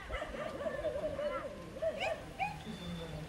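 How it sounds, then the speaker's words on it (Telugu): Dogs barking and yipping at a flock of sheep out in the open, the barks faint and somewhat distant beneath a nearby voice talking over the scene. "కుక్కలు అన్నీ ఎట్లా వరుకుతున్నాయి పాపం."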